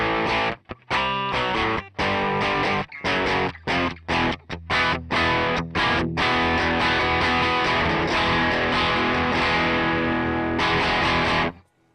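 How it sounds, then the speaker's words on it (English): Electric guitar through the overdrive setting of a Harley Benton JAMster, a low-gain, pushed AC30-style tone, plays a choppy run of staccato chords and then settles into a long sustained ringing chord, alone and up close. "it's just a low gain drive"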